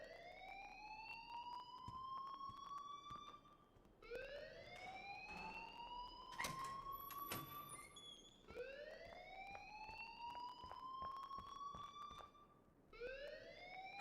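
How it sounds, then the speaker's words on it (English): A rising, wailing electronic alarm sounds over and over in the video game Life is Strange, each sweep lasting about four seconds, steady and continuous with faint clicks and no speech. "please turn off that alarm since that's your job."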